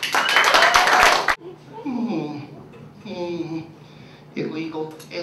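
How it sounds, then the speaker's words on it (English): Loud audience applause at a stand-up comedy show bursts for just over a second, then cuts off sharply as a voice takes over and keeps talking. "give a nice round of applause"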